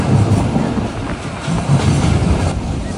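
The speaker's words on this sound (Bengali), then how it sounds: "কথা বলতে বলতে কিন্তু ট্রেন ঢুকে গেছে প্ল্যাটফর্মে" A local commuter train rolls into a station platform on the Jashore to Benapole line, its wheels clattering steadily and loudly over the rails, with a continuous rumble close by throughout.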